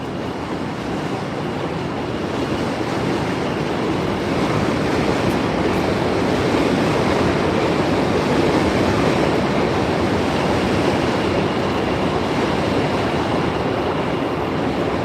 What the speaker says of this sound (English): that's the train coming through.